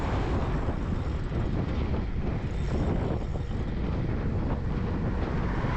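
Wind buffets the microphone while a mountain bike is ridden on a long road route, a loud, constant roaring rush with no voices heard.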